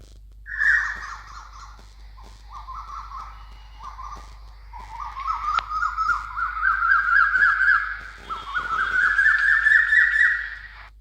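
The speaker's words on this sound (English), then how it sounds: "they should go listen to the birds singing in the forest" Several birds call and chirp in a forest, with squawking, crow-like caws and layered tweets building to a dense, steady chorus that runs throughout.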